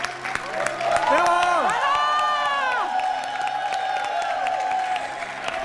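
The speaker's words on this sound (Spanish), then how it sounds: "aplauso para la chica guaya, para Lucha Slimy." A television comedy studio audience claps and cheers, with whoops and shouted voices rising over steady applause, loudest early and then settling into sustained clapping.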